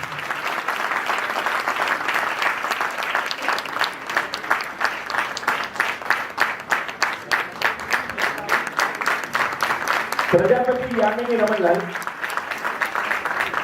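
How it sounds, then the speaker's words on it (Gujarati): An audience at a 2024 school teachers' award ceremony gives sustained, dense applause for an award-winning teacher, the clapping steady and full throughout, with a voice briefly speaking over it near the end. "મિત્રો, જોરદાર તાળીઓથી એમને વધાવીશું."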